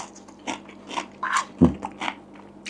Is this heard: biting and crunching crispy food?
yes